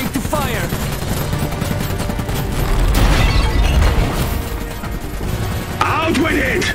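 Anti-armor infantry opening fire in the strategy game Iron Harvest, with heavy booming shots and rattling battlefield gunfire in dense layers, a voice calling out over the din.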